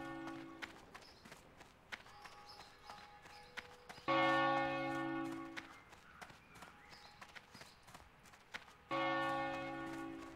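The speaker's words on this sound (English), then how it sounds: "Damn, that bell is loud." Loud church bell tolling in a town in World of Warcraft Classic, ringing chimes that swell and decay in two strong bursts over faint footsteps and clip-clop.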